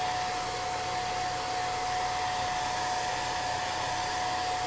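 A hair dryer drying chalk paste on a stencilled border: a steady, loud, continuous whirring blow with a constant high whine, running unbroken and close with no talk.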